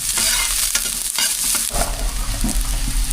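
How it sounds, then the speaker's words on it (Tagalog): Sautéing aromatics in hot oil in a wok before coconut-milk tilapia is added, with a steady loud sizzle and scraping stir strokes throughout, no voices. "Gisa muna tayo."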